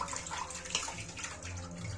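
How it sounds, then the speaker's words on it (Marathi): Fish sloshed and rinsed by hand in a basin of clean water: soft, close splashing and swishing with small drips, fairly quiet. "आता ही दुसऱ्या स्वच्छ पाण्यात अजून एकदा धुवायला लागलो"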